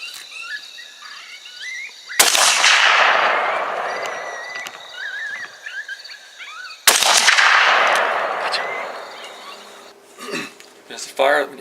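A hunting weapon fitted with a spring-loaded recoil camera mount fires two loud, sharp shots several seconds apart, each blast ringing out and decaying slowly, with faint background noise and scattered small knocks between them.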